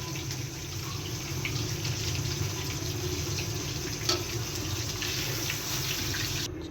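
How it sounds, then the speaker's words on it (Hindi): Water runs steadily from a tap, a continuous close rush with faint splashes as breaded chicken pieces for a zinger burger are dipped in water in a home kitchen. "साथ साथ हम पानी में इसको डिप करते जाएंगे इस तरह।"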